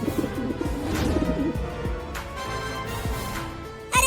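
Cartoon pigeons fly off carrying a net, with cooing bird calls and fluttering over a dense, loud music bed that closes on a sharp accent.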